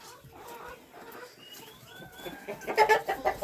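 Chickens clucking nearby, a few soft calls building into a louder cluster of clucks at the end, over faint background noise.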